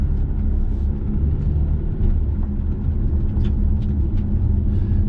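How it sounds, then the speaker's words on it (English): Low road and engine rumble heard inside a 2019-20 Jeep Compass Limited SUV on the move, a continuous droning hum with faint higher tire hiss, steady and close. "The car gives us a lot of road noise inside, and also engine noise"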